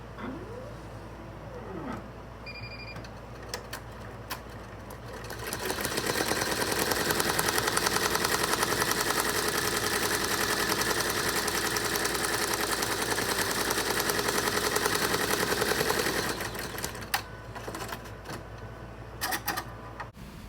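An embroidery machine fitted with an EZY frame runs a trace, its steady mechanical whirring and rattling kicking in after a few quiet seconds, holding loud and even for about ten seconds, then stopping.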